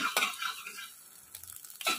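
Beaten egg stirred and fried in a wok for street-style chicken chow mein, with soft sizzling and a few scraping clatters of the spatula against the pan in short bursts.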